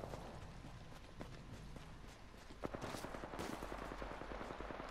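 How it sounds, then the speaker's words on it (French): Distant gunshots crackle in the Apex Legends video game, a run of sharp, scattered reports over a steady background, some in quick bursts, with no clear voices. "Ah, on entend des tirs."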